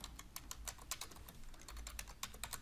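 Fast, irregular clicks of typing on a computer keyboard, close and quiet, with a steady run of keystrokes and no voice.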